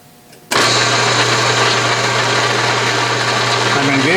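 An Atlas/Craftsman 12-inch metal lathe starts up for thread cutting, switching on abruptly from near quiet into a loud, steady motor hum and whir that holds constant close by.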